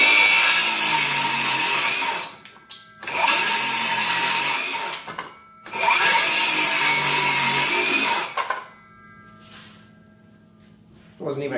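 Ridgid 18V GEN5X brushless 7-1/4 inch circular saw cutting through wood in three long, loud, close passes, each with a high whining blade roar that bogs slightly as it binds, separated by brief spin-downs, ending in a quiet tail.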